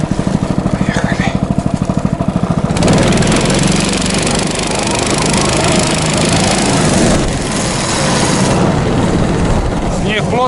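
Albatros 8L motorized towing snowmobile running across deep, dense untracked snow in a pine forest, its engine a loud steady drone that starts with a sputtering idle, then revs up and holds a continuous roar.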